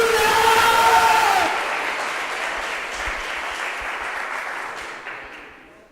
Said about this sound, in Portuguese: Dê uma salva de palmas e diga aleluia!